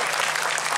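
Audience applause at a school event launching a Quran memorization program, a dense, even wash of many hands clapping together, loud and sustained without speech.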